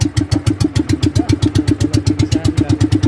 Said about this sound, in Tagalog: Ang aming makina ay Honda.